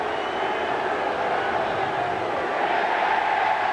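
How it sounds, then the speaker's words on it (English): A baseball stadium crowd at a 1996 Rangers game sends up a broad, sustained roar of cheering that swells steadily and stays dense for the whole stretch. "And they cheer as the fans reject the home run ball of the opponent."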